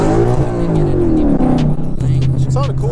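Ford Mustang with a 3.7 engine and BBK long-tube headers accelerating hard, a loud rising exhaust note that climbs and then settles, with brief chirps near the end and a voice heard under it.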